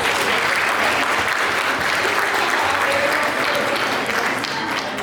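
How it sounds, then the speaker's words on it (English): An audience at a local pageant claps for the contestants, a full, steady round of applause that holds evenly for about five seconds before easing slightly. "Let's give all of them a big round of applause."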